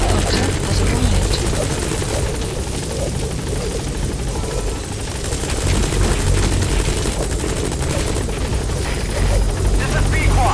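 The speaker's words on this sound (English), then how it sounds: "Helicopter has arrived." Helicopter in the Metal Gear Solid 5 video game arriving at a landing zone, a steady loud rotor thrum and engine whine running throughout with faint game effects and a voice beneath.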